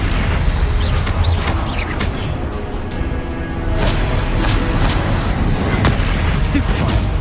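Continuous dense rumbling blasts and bursts of Confringo spell explosions in Hogwarts Legacy, loud and busy, with spell impacts layered throughout.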